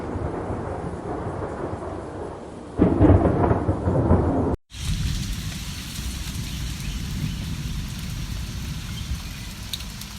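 Rain and thunder in an animated story: steady rain hisses throughout, swelling into a loud thunder crash partway, then a brief cut and dense rainfall continuing alone at an even level.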